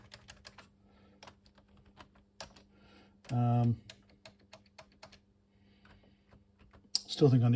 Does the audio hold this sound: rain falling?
no